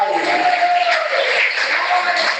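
A church congregation claps together in a dense, steady wash of applause that fills the hall, with a preacher's voice carrying over it.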